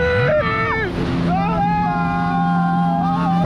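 A jet ski engine drones steadily on the water off Albania, its pitch sliding up and down as the throttle changes, loud and close amid wind buffeting, with people talking over it.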